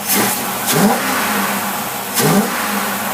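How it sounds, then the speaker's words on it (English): An engine fitted with a Holley 50262 carburetor revs up twice, each loud rising burst of throttle dropping back to a steady run in between, with no talking. "We're going to fire it up here and rev it up, make sure the back barrels work."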